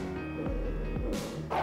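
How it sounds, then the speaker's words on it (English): Dog barks in the GTA V iFruit phone app, the game character's dog resting in a random spot, a few short yips and barks over a steady low electronic hum. "you have Franklin's dog just chilling out in some like random place"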